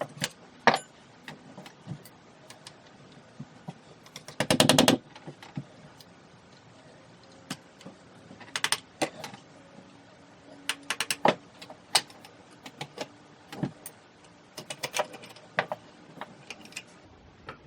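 A punch knocks pins out of a Ruger 10/22 rifle receiver: scattered sharp metallic taps and clicks at irregular intervals, one denser cluster of rapid strikes, close and distinct with no talk.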